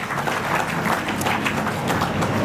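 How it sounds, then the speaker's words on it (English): Dense, sustained applause from a crowd at the launch evening of the 2018 Doug Moran National Portrait Prize exhibition, marking the prize's 30th anniversary; steady clapping fills the room without a break. "we are also celebrating 30 years of the Doug Moran National Portrait Prize, and that is a fantastic history. Indeed, well-earned applause."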